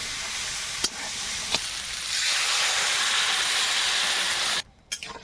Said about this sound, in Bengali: একটু বেশি করে জল দিলাম পুঁই শাকটা সেদ্ধ হবে